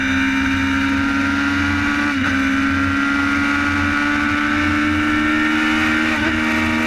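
Racing motorcycle on the Isle of Man TT course, accelerating hard up a road toward Ballahutchin, a loud, steady high-pitched engine wail held close throughout with a couple of brief shifts, no talk.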